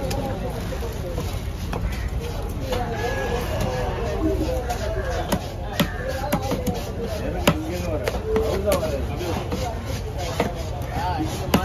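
A cleaver chopping through a huge 15 kg cobia fish at a market stall, sharp irregular thwacks repeating over steady background noise while people talk throughout.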